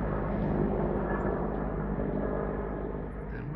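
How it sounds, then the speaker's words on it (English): Helicopter flying over Big Bear, California during firefighting on the Line Fire, a steady loud rotor drone that fades slightly toward the end, no talk. "We got the chopper here."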